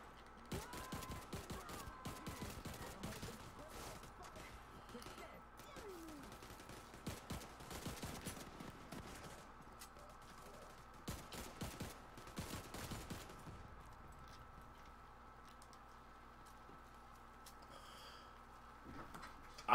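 Gunfire in the game The Division 2, rapid bursts of automatic shots crackling at moderate level for about thirteen seconds before thinning out to quieter scattered sounds.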